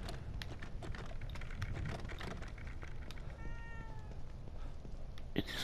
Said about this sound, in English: Is this cat gonna shut the fuck up?